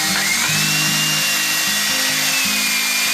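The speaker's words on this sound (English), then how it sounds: "That's a drill with a paint stir?" A power drill with a paint mixer attachment whirs steadily with a rhythmic, churning stir, close by and continuous with no talking, mixing homemade laundry and dishwasher soap.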